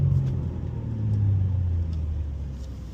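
A 2027 BMW M3 in Fire Orange, driven at a Performance Center track session, gives a deep, close rumble that swells as the engine pulls harder, then eases slightly.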